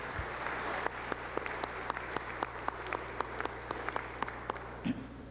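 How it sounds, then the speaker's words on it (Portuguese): Slow, sparse claps at a formal solemn session in a legislative chamber, each clap distinct and evenly spaced over a low steady hum, with a brief thump near the end. "Uma salva de palmas de todos nós."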